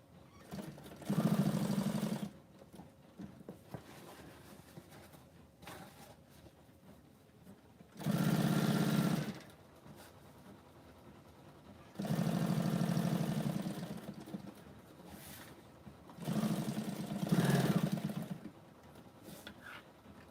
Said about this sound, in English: Yes, it's a sewing machine.